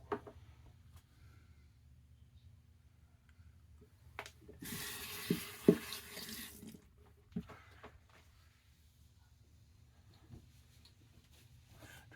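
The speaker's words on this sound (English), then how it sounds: "I'm going to put plenty of water in this lather." Tap water runs into a bowl of TOBS Grapefruit shaving lather in one short, bright splashing burst near the middle, with quiet gaps on either side.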